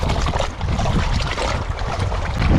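Choppy water slaps and splashes against a small boat moored by a fender in a sheltered spot off Samos, while gusts of wind buffet the microphone.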